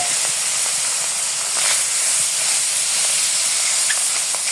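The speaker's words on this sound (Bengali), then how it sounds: "কড়াই তাপ হয়ে গেছে গা, মাছ দিয়ে দিলাম" Salted, chili-rubbed fish sizzles in hot oil in a wok, a steady, close, dense hiss with faint crackles throughout.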